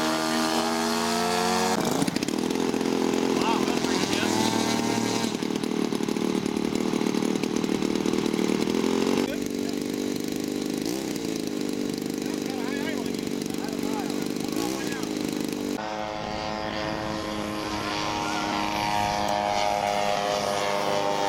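A warbird aircraft engine runs wide open at full throttle, a loud, steady droning roar with a propeller buzz that holds for the whole stretch, shifting slightly in pitch partway through.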